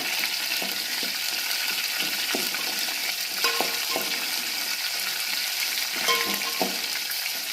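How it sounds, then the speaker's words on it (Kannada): Sliced green chillies fry in a pan for a fenugreek rice dish, giving a steady, close sizzle throughout with occasional stirring clinks and scrapes, no talking. "ಒಂದು ನಾಲ್ಕು ಮೆಣಸಿನ್ಕಾಯಿ ನಾನು ಉದ್ದುದ್ದಾಗಿ ಕಟ್ ಮಾಡ್ಕೊಂಡು ಹಾಕ್ಕೊಂಡಿದ್ದೀನಿ ಅದನ್ನು ಸ್ವಲ್ಪ ಚೆನ್ನಾಗಿ ಫ್ರೈ ಮಾಡ್ಕೋಣ"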